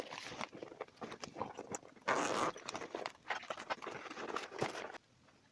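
Zipper on a handbag pocket, with several short close rasping zips and handling rustles, one longer steady pull in the middle, then quiet at the end.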